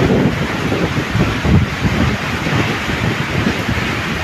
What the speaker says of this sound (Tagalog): So, wala kayong ibang marinig dito halos, kundi yung pagaspas ng hangin at saka yung ng ulan.